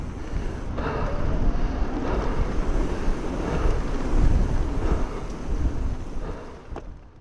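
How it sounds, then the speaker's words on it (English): Strong wind buffets the microphone on a mountain bike trail in Alabama, a continuous low roaring rumble with gusts swelling and easing, no voices. "Wow, is it windy?"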